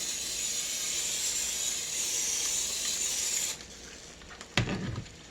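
Cooking spray hisses steadily for a few seconds while a cookie sheet pan is greased for meatballs, then stops, followed by a brief clatter of the pan.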